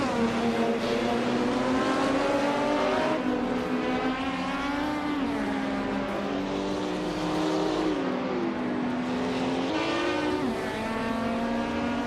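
Racing cars roar continuously through a race, engine notes rising and falling as they overtake, loud and steady with no pauses.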